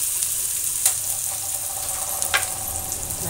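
Onion sautéing in a pan for masala oats, a steady soft sizzle with a few brief stirring clicks, close and continuous with no talking.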